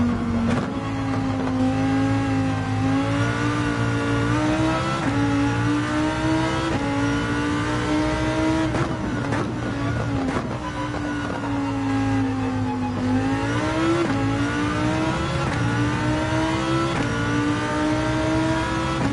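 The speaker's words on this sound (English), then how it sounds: "I think the Lambo's a short shifting car. We won't rev it out like the 911." A Lamborghini in Gran Turismo 7 revs continuously, its engine note climbing and dropping through repeated gear shifts, loud and close with no talk.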